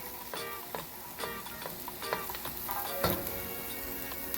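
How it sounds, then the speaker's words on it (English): Beef stir-frying in a pan gives a close, continuous sizzle broken by repeated spatula clinks and scrapes against the pan, with no talking. "Now I'm going to just move the meat to the side a little bit."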